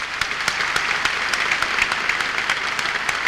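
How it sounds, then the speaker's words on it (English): Loud, close audience applause for song contest performers at a televised Maltese music show, sustained dense clapping with sharper individual claps standing out steadily. "everyone could give all the contestants a big round of applause"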